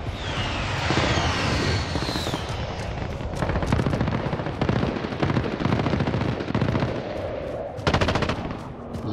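Rapid automatic gunfire in a Warzone match, loud bursts of shots with sharp repeated cracks, some distant fire mixed in and a low rumble beneath.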